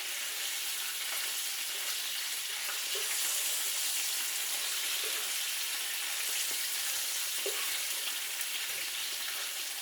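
Steady, dense sizzling and crackling of catfish frying in a hot pan, continuous and close, with small pops scattered throughout.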